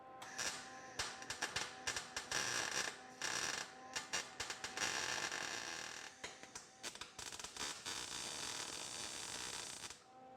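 Sheet metal is being welded on an Audi coupe GT body fitted for a Sport quattro replica. Close, harsh crackling bursts come in rapid irregular runs, with short gaps between the welds.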